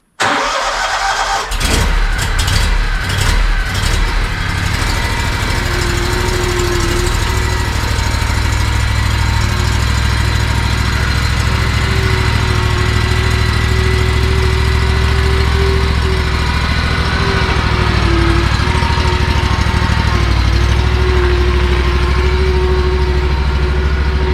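A Skag Tiger Cat 2 commercial lawn mower engine cranks with a few quick pulses, catches, and settles into a loud, steady mid-pitched idle that runs on unbroken at close range.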